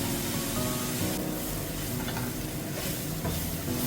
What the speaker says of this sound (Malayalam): ഉള്ളിയൊക്കെ വഴന്നിട്ടുണ്ട്